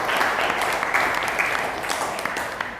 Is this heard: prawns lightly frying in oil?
no